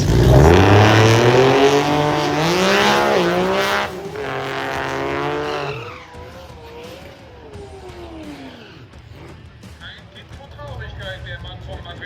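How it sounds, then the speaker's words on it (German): A camouflage-wrapped, formerly street-legal Nissan Skyline drag car at a German drag race roars at high revs, its pitch climbing and dipping, then fades off into the distance, with someone speaking over it throughout. "Paul Schubeck aus Schneewettingen mit dem Nissan Skyline in Tarnfarbe foliert"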